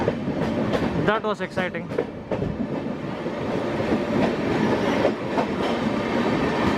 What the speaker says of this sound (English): Both trains moved quite together, parallel.